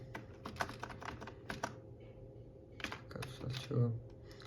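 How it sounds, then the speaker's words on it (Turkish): Computer keyboard typed on while configuring pfSense network settings: quick bursts of close, crisp keystroke clicks, a short pause, then more typing over a steady low hum. "tekrar yazıyorum"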